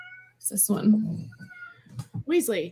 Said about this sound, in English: Okay, that's our cat crying.